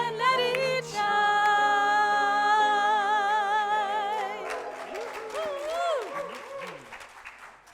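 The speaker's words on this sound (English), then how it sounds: "let's hear one more round of applause for these guys" At a Sunday church service, a choir's sustained singing fades out and the congregation breaks into applause, with a few voices rising over the clapping.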